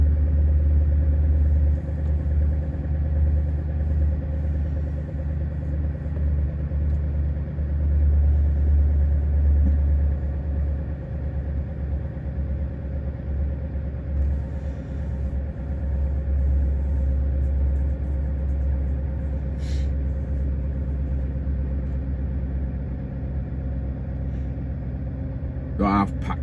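A truck engine idles aboard a small ferry in Sweden, giving a steady deep rumble throughout with faint clanks, while someone talks over it.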